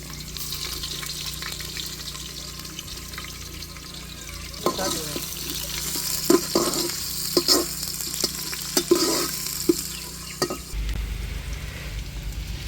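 Onions frying with cinnamon, cloves and ginger garlic paste in a pan for a village-style country chicken curry, a steady close sizzle punctuated by repeated scraping stirs and clanks of a ladle, with no speech.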